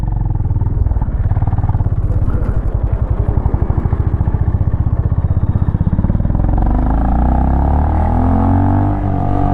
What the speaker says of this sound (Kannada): ಎಕ್ಸಾಸ್ಟ್ ಈ ಥರ ಕೇಳ್ಸುತ್ತೆ